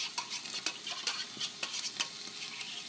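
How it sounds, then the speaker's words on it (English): A spoon scrapes and swirls around the inside of a metal coconut milk can, loosening leftover coconut milk for Thai red curry, with soft repeated clinks and sloshing heard alone at low volume. "stir the coconut milk that left in there so you can use it all"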